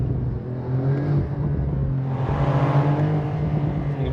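Porsche 992 Targa 4 GTS from 2022, exhaust rumbling loud and close with a steady low drone, swelling midway as the engine revs, with crackly pops and bangs through the sport exhaust and no talking.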